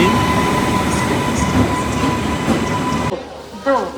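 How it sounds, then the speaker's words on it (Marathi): A train pulls into a station: a loud, steady rumble of rail wheels and carriages close by, continuous for most of the moment before dropping away suddenly to quieter station ambience. "ट्रेन आलेली आहे आमची."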